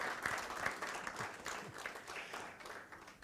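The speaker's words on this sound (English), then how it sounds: "When we thank people, you clap." An audience applauding at a government risk assessment report launch, a steady wash of many hands clapping, fairly distant and soft, with no talk.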